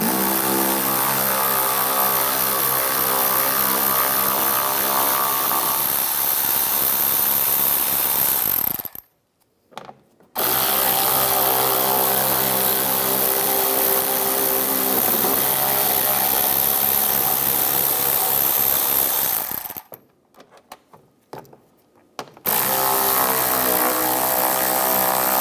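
A power tool spinning out bolts with an 8mm socket under a 2011-2019 Ford Explorer, heard as a loud, continuous whirring drone broken by two short pauses, with no talking.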